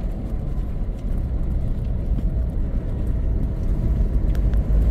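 A car moving through a roadworks stop-and-go section on the Trans Uruará highway in Pará gives a steady, heavy low road rumble that holds evenly throughout, with no voices.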